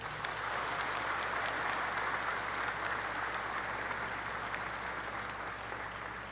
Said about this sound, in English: please give your parents a warm round of applause